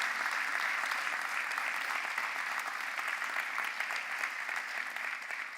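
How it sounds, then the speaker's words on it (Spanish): A church congregation applauds in a long, sustained wave of dense clapping that holds steady and fairly loud, fading slightly toward the end, with no speech. "dale un fuerte aplauso al Señor."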